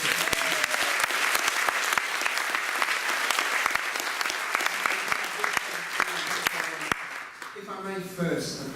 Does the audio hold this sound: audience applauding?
yes